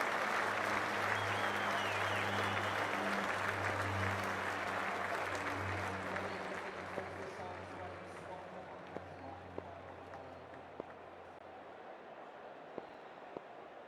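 Near-capacity cricket stadium crowd at an IPL match between Chennai Super Kings and Sunrisers Hyderabad, applauding and cheering in a dense, sustained roar that gradually fades to scattered claps, with a low hum underneath and a voice talking over it.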